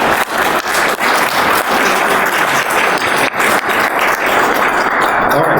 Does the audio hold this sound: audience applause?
yes